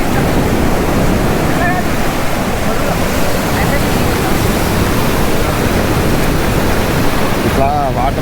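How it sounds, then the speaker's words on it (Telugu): Ocean waves wash onto the shore at Ramayyapatnam Beach in Andhra Pradesh, a loud, unbroken roar of surf that fills the whole stretch and sounds close by. "నాకు తెలిసి మీకు నా వాయిస్ కంటే ఆ వాటర్ వాయిస్ ఎక్కువ వస్తాయి అనుకుంటా మేబీ"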